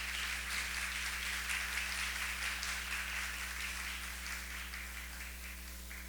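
Audience applause in a hall welcoming the mediation team at a university rectorate election debate, a steady wash of many hands clapping that holds for about six seconds and tapers slightly toward the end, with no talking.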